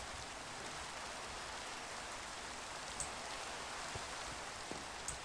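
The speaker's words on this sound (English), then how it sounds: "Well, it's still raining, which not a big surprise" Steady rainfall at night in the video game Minecraft, a dense, even hiss of drops that stays constant throughout, with a few faint ticks standing out near the end.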